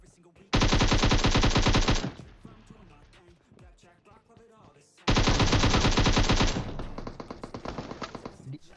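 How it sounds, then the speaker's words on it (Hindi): Suppressed automatic gunfire from a weapon in the PUBG battle royale video game, sounding as two long, loud, rapid bursts separated by a quieter stretch of game noise, with the second burst trailing into softer continuing shots. "इस गन की ना एक ही चीज़ सही है वो है इसकी सप्रेसियर वाली आवाज़"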